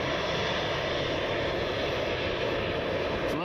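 A departing airliner's engines roar at Cleveland Hopkins International Airport, a loud, steady broadband rumble held unbroken from start to finish.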